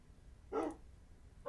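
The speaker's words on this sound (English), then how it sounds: "I got a little trained puppy now" Two short barks from a trained puppy in the Minecraft video game, the first a clear mid-volume yap and the second starting right at the end, with quiet gaps around them.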